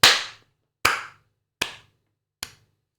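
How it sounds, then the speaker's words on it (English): A single sharp clap echoing through a delay feedback effect, four repeats spaced about 0.8 seconds apart, each quieter than the last, with nothing else heard. "That's where you get like a clap sound."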